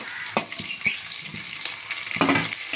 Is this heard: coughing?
no